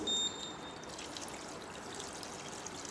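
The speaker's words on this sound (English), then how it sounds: "In that I am going to add the cold water." Cold water is poured into a stock pot holding chicken bones, a soft, steady trickle that runs quietly throughout with no talking.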